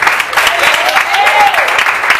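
A church congregation applauds during a Friday worship service, the clapping dense and fairly loud, with a sustained tonal voice or sung note rising briefly above it.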